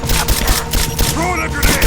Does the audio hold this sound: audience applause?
no